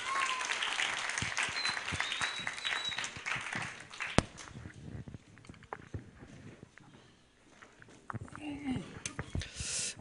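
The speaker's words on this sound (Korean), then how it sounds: "우리 장성도 목사님 우리 나오실 때 우리 박수로 환영하도록 하겠습니다." A church congregation applauds to welcome a pastor at a joint retreat, with scattered clapping and voices mixed in over about ten seconds before the applause thins out.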